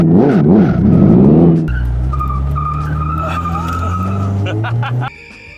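A car fitted with a locked differential and sports tires drifts on a circuit. Its tires skid and squeal loudly over a revving engine, and a voice speaks over the noise before it drops away abruptly.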